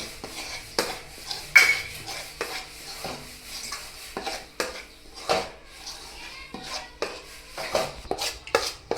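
Wheat flour roasting in ghee in a pan for Kathiyawadi wheat-flour barfi, with repeated scraping and stirring clinks of a spoon against the metal pan and a soft sizzle underneath, close and fairly quiet.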